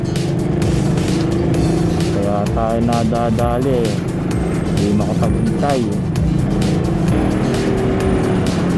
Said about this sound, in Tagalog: kasi city na rin naman tong Lipa, kaya expected na ganito ang traffic dito